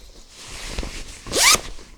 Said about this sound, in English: Just unzip that